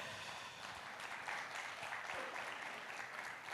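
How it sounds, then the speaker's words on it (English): Loud round of applause from an audience in a hall at an LPG product launch event in Pune, sustained and even throughout, fairly distant. "give a loud round of applause so he knows that his friends are in the hall"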